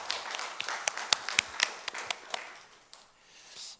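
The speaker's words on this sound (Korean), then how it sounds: "하나님께 영광의 박수를 드리겠습니다." A small church congregation gives a short round of scattered hand claps, sharp individual smacks that thin out and fade after a couple of seconds.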